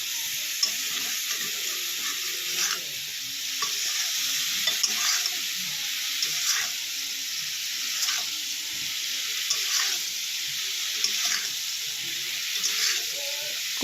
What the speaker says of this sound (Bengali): হলুদটা দিয়ে এখন ভালো করে লাল লাল করে ভেজে নেওয়া